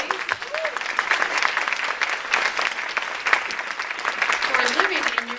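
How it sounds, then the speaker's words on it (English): Audience applause at a women's luncheon, a steady, full round of clapping from a seated crowd that carries on for several seconds, with a few brief whistles or cheers rising above the dense patter. "Clap for them,"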